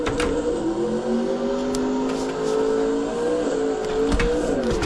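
In the Assetto Corsa racing game a car in a drift setup pulls away, its engine note droning steadily and rising in pitch as it accelerates, loud and continuous with brief clicks over it.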